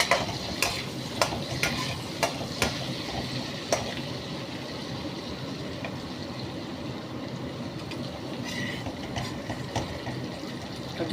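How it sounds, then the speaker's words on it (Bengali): Cashews fry in butter in a pan, a steady close sizzle broken by sharp scraping stir strokes at irregular intervals, with no talking. "ওই গরম হতে হতে কাজু ভাজাটা হচ্ছে।"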